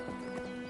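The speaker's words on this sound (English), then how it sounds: "When Javier Martin is not herding cattle, he gives displays of traditional Spanish horsemanship." Horse hooves clip-clop briefly during a traditional Spanish jineta horsemanship display, a quick couple of hoofbeats over a steady tonal background.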